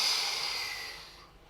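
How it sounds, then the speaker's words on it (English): A long, deep, airy breath drawn in during a lower back strengthening exercise with one arm and the opposite leg extended, close and loud at first, then fading over about a second and a half. "I'm going to inhale and exhale as I do."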